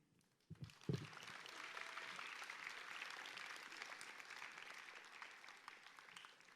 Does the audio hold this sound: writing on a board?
no